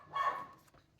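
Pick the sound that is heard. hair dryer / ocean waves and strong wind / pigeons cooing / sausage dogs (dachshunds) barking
sausage dogs (dachshunds) barking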